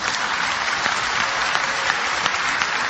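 A crowd at an Islamic talk breaks into applause, a dense, steady wash of many hands clapping at even loudness throughout without voices on top.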